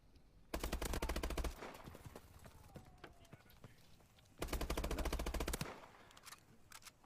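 Two loud bursts of rapid automatic gunfire in Call of Duty: Advanced Warfare, each about a second long, separated by quieter game ambience with faint clattering.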